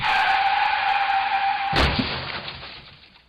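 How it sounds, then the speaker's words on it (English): A car crash sound effect played through a haptic controller demo: a steady whining, rushing noise cut by one loud smashing impact, then a fading, crunching tail. "versus the impact of bigger effects like a car crash,"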